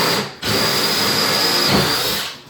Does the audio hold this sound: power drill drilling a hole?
yes